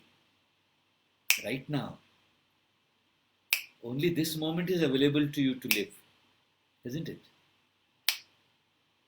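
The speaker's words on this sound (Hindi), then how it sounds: "देखिए, मैं 10 बार चुटकी बजाऊंगा तो पहली 9 चुटकी पास्ट हो गई।" A man snaps his fingers several times during a spiritual talk, sharp isolated clicks spaced a second or more apart, some right before his speech, one under it and another alone at the end.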